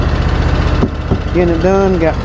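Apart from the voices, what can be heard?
lawn mower engine running while mowing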